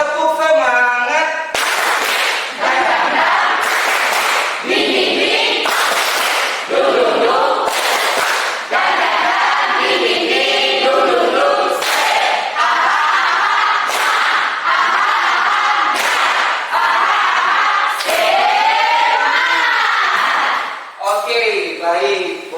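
A classroom of students performs a rhythmic spirit clap in unison, repeated sharp bursts of clapping in patterned groups, loud and close, with chanting voices between and over the beats.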